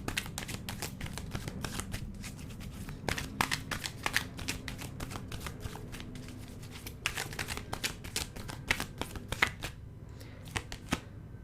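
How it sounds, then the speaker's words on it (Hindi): Tarot cards are drawn from a deck and shuffled in a steady run of crisp, close, quiet flicks and snaps that carry on for several seconds, with no talking. "मैं सबसे पहले यहाँ से 4 कार्ड्स लूँगी. Give me 4 cards universe."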